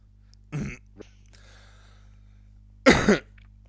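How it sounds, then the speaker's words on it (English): Two sharp coughs, close and loud, with a brief quiet pause between them and a faint background hum. "I've had a cough for like 2 weeks now"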